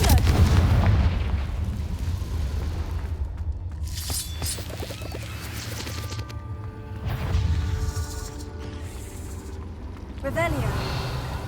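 Confringo blasting spell explosions in Hogwarts Legacy, several booming, crackling blasts over a thick bed of game music and effects, loud and close, with spell voice lines heard around them.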